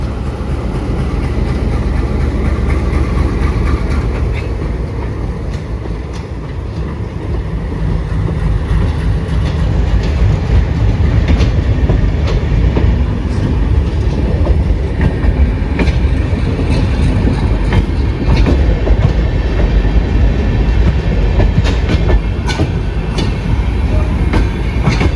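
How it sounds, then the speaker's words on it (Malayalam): Train coaches roll through Tuticorin railway station with a continuous heavy rumble and rhythmic wheel clatter, loud and near, swelling slightly midway and sustained throughout. "ആ കോച്ച് ഇതിന് കൊണ്ടുവന്ന് കപ്പിൾ ചെയ്തിട്ട് റേക്ക് മൊത്തത്തിലെടുത്ത് യാർഡിലേക്ക് കൊണ്ടുപോകാൻ തോന്നുന്നു"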